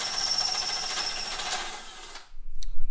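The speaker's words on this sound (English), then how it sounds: "we're going to use a step bit, and we're going to open that up to half inch." A power drill with a step bit bores a bumper mounting hole out to half an inch, giving a whining grind for about two seconds before it stops, with a few clicks and handling noises after.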